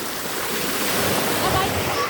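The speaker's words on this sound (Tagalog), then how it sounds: "Malakas yung alon." Steady roar of strong ocean surf, a broad continuous wash of crashing water heard close by.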